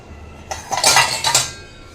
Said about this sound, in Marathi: हा टोप गॅसच्या स्टोववर मावत नाही बघा, पडतो असा